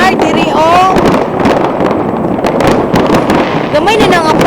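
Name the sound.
fireworks exploding in Copenhagen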